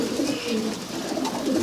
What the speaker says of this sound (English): she turned out to be a really nice pigeon